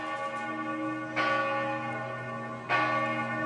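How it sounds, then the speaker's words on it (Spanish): Church bells of the Basilica of Santa Maria Maggiore in Rome ring out in a steady, sustained toll, with two strong fresh strikes about a second and a half apart over a lingering wash of overlapping resonance. "Son las campanadas en la Basílica Santa María Maggiore"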